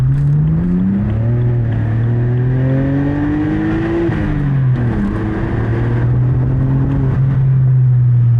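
BMW E90 with N52 inline-six and muffler delete, exhaust revving loud and close, a steady raspy drone that climbs in pitch, drops briefly, then holds high again, with no talking.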